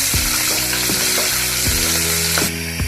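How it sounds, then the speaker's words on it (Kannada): Chopped onion sautés in a pan for a sprouted horse gram saaru, a loud, steady sizzle broken every half second or so by the scrape and clack of stirring, with no voices. "ನಂತರ 1 ಈರುಳ್ಳಿ ಹೆಚ್ಚಿರುವಂಥದ್ದು, ಅದನ್ನು ಒಂದು 2 ನಿಮಿಷ ಬಾಡಿಸಿ"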